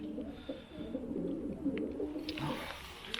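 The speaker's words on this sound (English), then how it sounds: "Can you hear the birds down in there?" Birds coo and call from down a tin mine shaft at Wheal Peevor, with soft, hollow, pigeon-like cooing over a steady low rumble.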